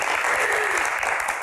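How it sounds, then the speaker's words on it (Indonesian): A studio audience bursts into full, dense applause, a brief wash of many hands clapping together without pause. "Tepuk tangannya mana?"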